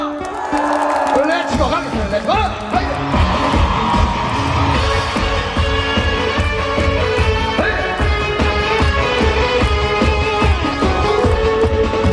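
A festival audience at a Korean trot singer's outdoor performance applauds and cheers in a dense, continuous wash of clapping and shouts, loud and close, with music playing and someone speaking over the crowd.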